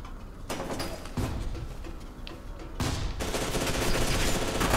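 Continuous gunfire in F.E.A.R. 2, rapid machine-gun bursts and fusillades stacked densely and loudly, with a short gap before the shooting resumes even harder.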